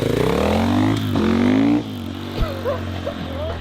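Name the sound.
KTM 450 EXC-F motorcycle engine revving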